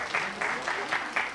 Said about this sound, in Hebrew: בבקשה, תנו לה מחיאות כפיים